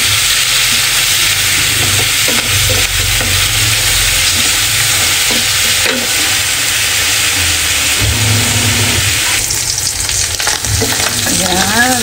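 Boiled oysters and red onion fry loudly in a pan for oyster steak, a dense, continuous close-up sizzle with scraping stirs throughout and no talk.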